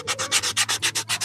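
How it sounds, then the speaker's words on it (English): Sandpaper rubs a wooden handle being reshaped for a Flexcut carving knife, making about nine quick, even back-and-forth strokes. Each stroke is a loud, close rasp with no talking. "After sanding it up"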